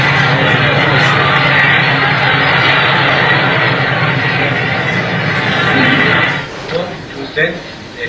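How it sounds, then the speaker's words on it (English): The Graf Zeppelin LZ 127 airship's engines drone steadily in flight as a loud, broad roar that drops away near the end. "Listen to those engines."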